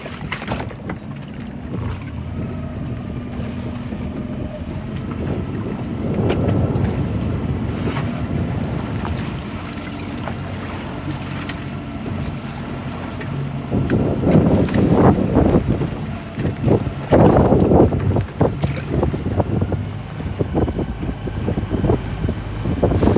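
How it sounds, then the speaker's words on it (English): Gusty wind buffeting a stone crab fishing boat off the Florida Keys, a continuous rushing roar with sharper blasts swelling toward the end, water and hull noise underneath, no talking. "Definitely windier than it was supposed to be."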